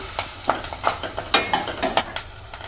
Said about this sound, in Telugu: ఇవన్నీ వేసిన తర్వాత తాలింపు చక్కగా దోరగా వేయించండి పచ్చిమిర్చి కూడా బాగా వేగాలి